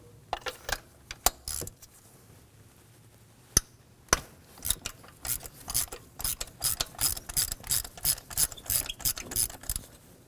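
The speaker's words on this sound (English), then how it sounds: "Using a 5/8 socket, we're going to go ahead and remove the spark plug." A ratchet with a 5/8 socket works a spark plug loose on a 2016-2020 Kia Sorento 2.4L four-cylinder, giving a few scattered clicks and then a fast, regular run of close ratcheting clicks.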